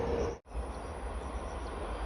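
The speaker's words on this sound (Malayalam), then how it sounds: "കോട്ടയം ഭാഗത്തിലേക്ക് പോകുന്ന ട്രെയിനാണ്" A passing train bound for Kottayam in rural Kerala gives a distant, steady rolling rumble, faint and continuous after a brief dropout at the start.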